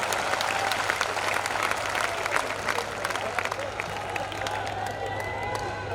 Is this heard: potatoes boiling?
no